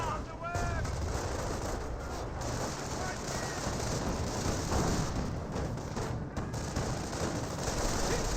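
Sniper rifles and other battle gunfire crackle in Company of Heroes, a World War II strategy game, as dense, continuous shots and blasts with brief whistling tones, heard under a steady layer of battle noise.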